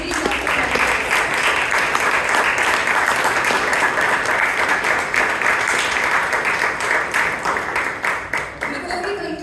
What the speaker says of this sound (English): Can we have a huge round of applause for our newly inducted members?